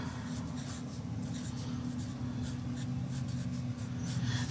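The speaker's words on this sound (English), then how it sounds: "I just want to write this right here." A pen writing on paper with soft, continuous scratchy strokes up close, steady and quiet over a low background hum.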